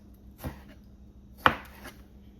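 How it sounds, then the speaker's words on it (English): A knife chops a tomato on a cutting board in two or three crisp, separate strikes, with the middle cut the loudest, close up in a quiet kitchen. "So I'm going to chop up the tomato a little finer."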